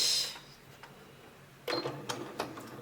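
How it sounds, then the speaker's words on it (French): A sewing machine starts slowly along the open side of a vinyl and fabric pouch, with a soft hiss at first, then a few short, close mechanical bursts of stitching. "on commence toujours à coudre le côté ouvert."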